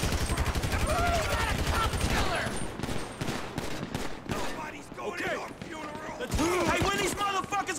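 Gunfire in the Grand Theft Auto V video game, rapid bursts of loud shots crackling throughout, heavy and close, mixed with someone talking over the action.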